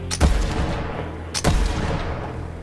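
Gunfire in Borderlands 3, two loud, close blasts about a second apart, each ringing out briefly over a steady rumble of game background.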